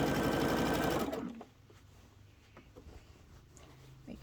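A sewing machine runs zigzag stitching on a quilt in a loud, fast mechanical whir for about a second, then stops, leaving quiet handling sounds.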